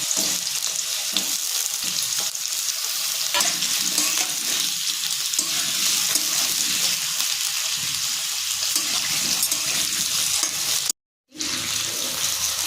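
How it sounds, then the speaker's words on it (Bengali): Potatoes frying in oil for a Bengali sukto, a steady loud sizzle running close and continuous, with a brief silent gap near the end before the crackle resumes. "আগে আমি আলুটাকে ভেজে নেব।"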